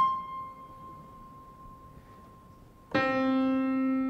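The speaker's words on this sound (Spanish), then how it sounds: "Y si a esa cuerda la vuelvo a partir por la mitad, suena así." A faint lingering tone fades out, then a quarter-length monochord string is plucked sharply and rings on, bright and sustained, with no talking.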